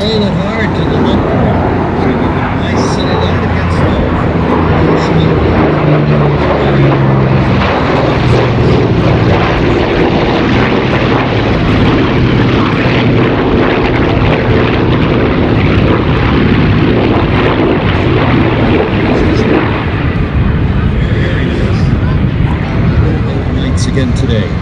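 An A-26 Invader propeller aircraft makes a low photo pass at the 2012 Wings Over Whiteman airshow, its piston engines droning loud and steady throughout, with an announcer talking over the roar.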